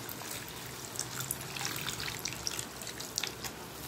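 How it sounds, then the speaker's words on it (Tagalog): Water runs into a cooking pot while bangus is being prepared, making a soft, steady trickle and splash that stays fairly faint and continuous for several seconds with no talk. "Lagyan natin ng konting tubig."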